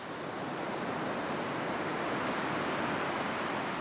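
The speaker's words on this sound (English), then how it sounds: "The noise of the colony has been replaced by the gentle crash of waves." Waves crash on a pebbly shore in a steady, dense wash of surf noise, continuous and fairly soft, with no voices.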